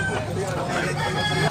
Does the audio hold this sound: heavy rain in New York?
no